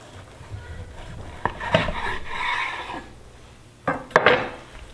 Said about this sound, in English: So I'm just going to go ahead, cut this in half here